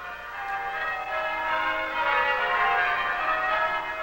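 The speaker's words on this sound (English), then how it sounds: "It's a seven bell method, so the tenor, the eighth bell," Tower bells of Vancouver bell ringers ring Grandsire Triples, a seven-bell method with the tenor covering as the eighth bell, producing a steady, loud wash of overlapping tones with no voices.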